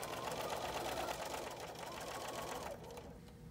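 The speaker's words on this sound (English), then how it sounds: "insert my next fabric under this presser foot and start stitching" A sewing machine chain stitches quilting fabric under the presser foot for a bowl cozy, running steadily and close with a fast even whir of needle strokes, then slowing and easing off near the end.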